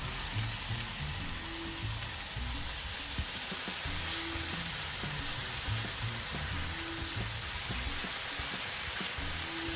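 Three strips of traditional-cut hickory smoked bacon sizzle steadily on a Blackstone griddle. The frying hiss is loud and constant, with faint scraping thuds underneath and no talking.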